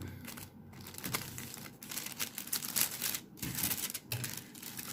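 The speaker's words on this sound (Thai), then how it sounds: "เทปกาวติดลงไปเลยครับ" Adhesive tape is pulled and pressed onto a wrapper around pizza-topped hot dog bread, giving close crinkling, tearing and crackling noises in irregular bursts with brief pauses.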